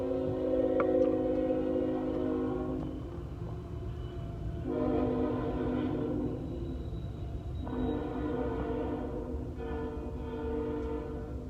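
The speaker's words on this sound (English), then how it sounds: "hold on, there's a train" A passing train's horn sounds in several long, sustained blasts with rumbling rail noise underneath, moderately loud and somewhat distant, in Austin, Texas.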